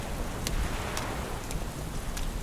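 Steady rain hisses densely across a surface in an audio play, a close, loud wash with scattered sharper drop ticks throughout.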